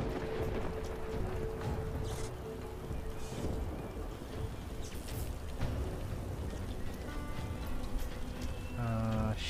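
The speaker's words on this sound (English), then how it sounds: "we need some rain" Rain pouring in the video game Divinity: Original Sin 2, a constant hiss of falling drops with scattered taps and low rumbles, fairly quiet, ending with a short tonal game chime.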